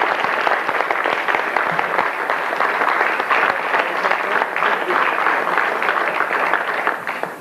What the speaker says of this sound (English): I would appreciate your joining me and giving them a round of applause for this